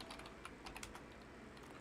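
A password typed into a Linux terminal on a computer keyboard, a quick run of soft, faint keystrokes over a steady hiss.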